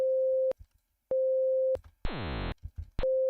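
Synthesized BeepBox chords: a sustained electronic tone sounds three times in separate blocks, with a denser buzzing multi-note chord between them, each cut off abruptly, no voices.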